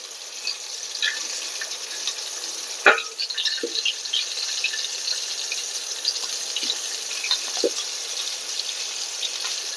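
Bitter gourd pieces fry in a pan over a low flame for a masala dish, making a steady close sizzle with a few sharp pops and clinks, and no voices are heard.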